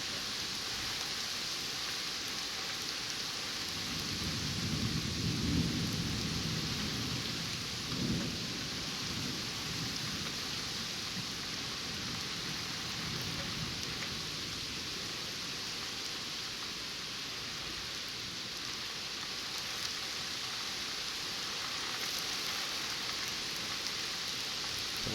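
A severe thunderstorm over New York Harbor: heavy rain hisses steadily throughout, with low rolling thunder swelling in the first half before fading back into the constant downpour.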